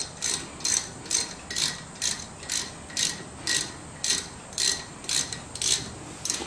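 Ratchet wrench tightening the brake caliper glide pin bolts on a 2013 Chevrolet Malibu's front brakes, a close, steady run of about fourteen evenly spaced clicking strokes with no talking.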